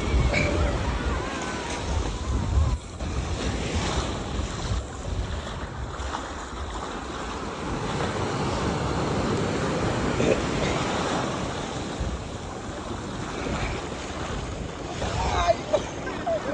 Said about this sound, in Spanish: Ya, esta es la playa Taquile